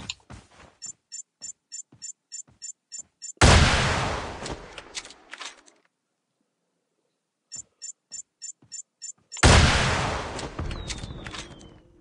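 Rocket launcher fire in COD Mobile: two loud blasts, each after a run of rapid mechanical clicks, followed by a roaring decay and a near-silent gap between them.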